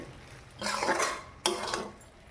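Metal utensil scraping and clinking in a pan while chopped onion is stirred into a prawn and vine-stem dish, two short bursts of scraping with a brief pause between, close and moderately loud, no talking.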